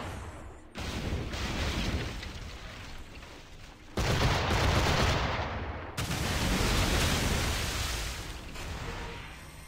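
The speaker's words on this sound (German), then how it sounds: "Ja klar, dann machen wir hier nochmal eine Seeschlacht." Naval battle cannon fire in Assassin's Creed 4 Black Flag, with loud, sustained broadside booms rolling in heavy waves and abrupt new blasts around four and six seconds, close and alone without talk.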